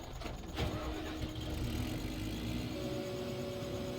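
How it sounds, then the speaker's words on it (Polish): A tractor pulling a trailer in Farming Simulator 15 starts up and then runs at a steady mid-pitched engine drone, close and fairly loud. "Przestawić ciągnik z przyczepą obok."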